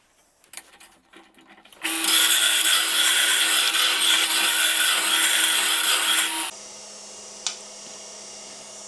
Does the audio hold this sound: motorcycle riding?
no